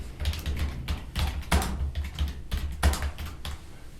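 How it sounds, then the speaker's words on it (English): Someone types a note on a computer keyboard with an uneven run of close, clicky keystrokes, and a few louder taps stand out. Nobody speaks. "We can type our note in here."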